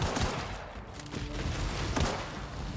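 Gunfire in The Outer Worlds during a fight with rock-throwing enemies, a dense crackle of shots spread across the moment with a few sharper bursts standing out.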